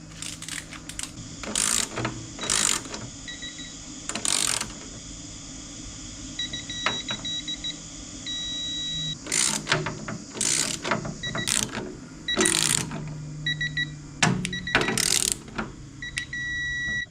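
A torque wrench tightening screws on EVE MB31 battery cells in a DIY battery kit, giving repeated short ratcheting bursts and clicks in uneven clusters, close and fairly quiet, with no talking.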